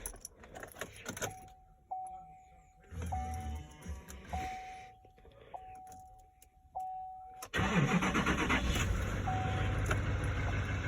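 A 2019 Chevrolet Silverado 3500 HD diesel starts up. Keys jangle and a chime repeats several times, then the engine cranks and catches into a loud, steady diesel idle close by.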